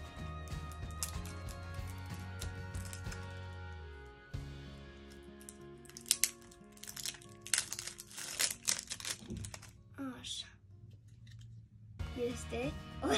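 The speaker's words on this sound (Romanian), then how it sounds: "Am adus o foaie, pe care o să tăiem acum" Scissors snip through a sheet of paper, with crisp crinkling and cutting rustles close by over steady background music, followed by brief paper handling.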